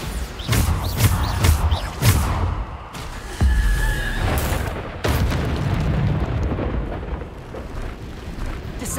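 Bombarda spell blasts in Hogwarts Legacy: several deep, booming explosions land one after another, each followed by a rumbling tail, with scattered sharper cracks between them.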